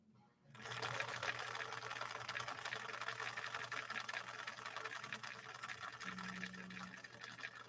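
A 1961 Husqvarna Viking sewing machine stitching Sulky 40 wt embroidery thread into polyester-acrylic velvet with a size 80 Schmetz universal needle, starting up and running in a steady fast whir, close and alone.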